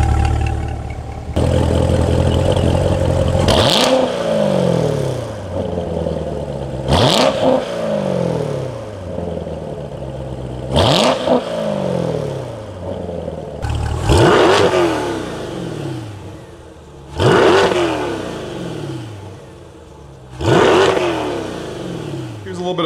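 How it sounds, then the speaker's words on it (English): A Chevrolet C8 Corvette is started and idles at close range, loud and steady, with repeated sharp blips that rise and fall in pitch about every four seconds over the engine drone. "And the idle of the C8."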